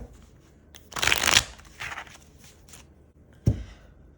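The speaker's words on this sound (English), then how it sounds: "Let's give her a shuffle." F. Di Milano Marseille tarot cards riffle-shuffled in a quick burst, then a softer second shuffle and a sharp tap as the deck is squared, close and clear.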